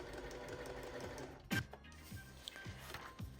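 A sewing machine stitches fabric in a quick, steady mechanical run, with a sharp clunk partway through and lighter rhythmic clicks afterward. No voices are heard.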